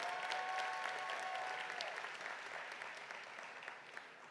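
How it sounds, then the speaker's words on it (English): Applause at a winter university commencement ceremony: a large crowd claps steadily in a big hall, fairly distant and gradually fading over a few seconds, with a brief tonal ring at the start. "Let's give a round of applause to them"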